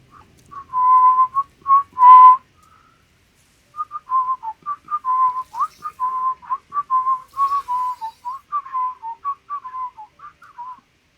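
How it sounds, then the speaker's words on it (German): A person whistles a tune alone, bright and close, in short phrases with a pause after the opening bars, then a longer continuous melody. "dann kann ich auch pfeifen, das Liedli pfeifen"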